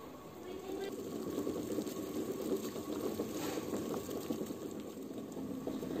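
Eggs boil in a pot of water with vinegar, giving a steady bubbling, gurgling wash at moderate volume that continues without pause over a low background hum.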